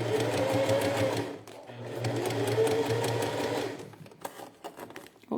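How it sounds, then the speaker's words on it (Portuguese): A sewing machine stitches a plastic pencil case near its zipper, running steadily and loudly for about three seconds, pausing briefly, then resuming before breaking into a few scattered stitches and clicks toward the end. "Só costurando com calma."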